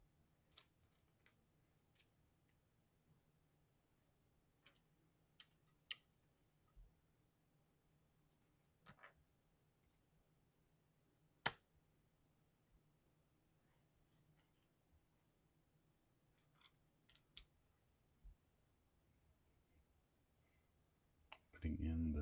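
Small plastic LEGO pieces from the 75301 Luke Skywalker's X-Wing Fighter set make sparse, sharp clicks and snaps as the wing foils are built. Faint isolated clicks come several seconds apart in a very quiet room.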